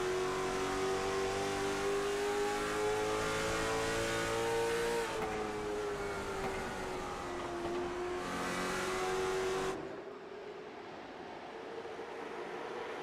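Stock race cars roar around North Wilkesboro Speedway, a loud, sustained engine drone that rises and falls in pitch as the cars pass, then drops off sharply toward the end.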